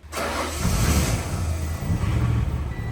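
A Ford LTD's engine cranks and catches for the first time after a fuel pump rebuild, then settles into a loud, rough, steady idle close by.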